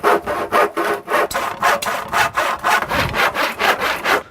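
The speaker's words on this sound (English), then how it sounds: "Now use the appropriate saw to cut through the timber." Hand saw cutting through roof timber, a steady series of about a dozen rhythmic back-and-forth rasping strokes, close and loud, with no talking.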